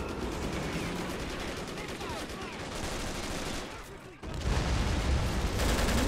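Gunfire and explosions in the video game World in Conflict, a dense continuous barrage of shots and booms with a brief lull before it surges louder again.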